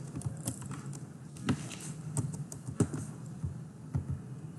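Keys on a computer keyboard are typed in an irregular patter of light clicks while a full name is entered into an online sign-up form, close and fairly quiet, with no talking.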